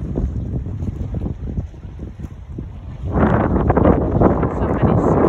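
Boat on rough water at Lake Jackson, a big lake, with rumbling hull and wind noise that swells louder in the second half, close to the microphone.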